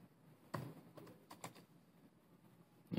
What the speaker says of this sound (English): bear with me, I'm typing one-handed and not for the right reasons.